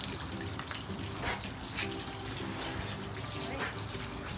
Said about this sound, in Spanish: No está lloviendo, es toda la nieve que se está derritiendo. Miren que parece que estuviera lloviendo.